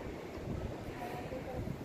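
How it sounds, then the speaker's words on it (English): Strong gusting wind buffets the microphone on an Appalachian Trail mountain summit, a steady low roar that holds for the whole short stretch with no pauses. "Still windy as anything out here."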